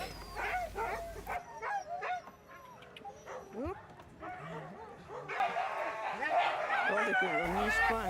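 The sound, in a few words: working dogs, huskies, barking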